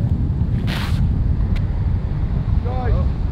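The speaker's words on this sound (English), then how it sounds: "Actually, all day is a crappy wind." Strong wind blowing across an outdoor disc golf course as a constant low rumble of buffeting on the microphone, with brief faint voices over it.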